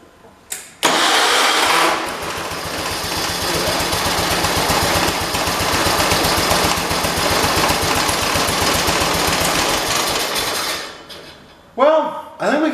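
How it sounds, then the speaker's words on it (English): A John Deere 216 lawn tractor engine cranks and turns over, then runs loud and steady for about ten seconds before cutting off, with voices speaking briefly afterward. "We're going to try and see if the engine will turn over now."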